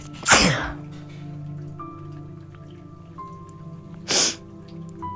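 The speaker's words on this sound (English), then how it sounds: "I'm gonna sneeze." Two loud sneezes, one right at the start and another about four seconds later, with a low steady hum in between.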